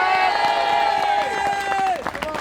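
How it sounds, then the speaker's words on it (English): A crowd at an Edinburgh veterans' rally cheers and applauds, with loud close voices and claps under a sustained swell of noise that dips briefly near the end. "Give him a big round of applause."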